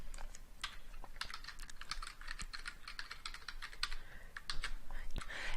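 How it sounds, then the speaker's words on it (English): Rapid, uneven clicking of keys on a computer keyboard, close and crisp, with short pauses between bursts and no voices over it. "So let's type that in here."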